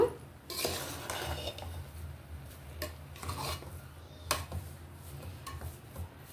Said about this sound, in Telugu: కొంచెం బియ్యం రవ్వ కాబట్టి కొంచెం ఇట్లా కలుపుకోవాలి ఒకసారి మధ్యలో